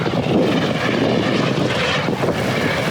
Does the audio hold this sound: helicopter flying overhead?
yes